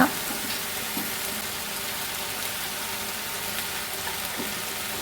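Ivy gourd thoran stir-fries in a pan with turmeric powder, giving a steady, soft sizzle with faint scrapes of a spoon stirring.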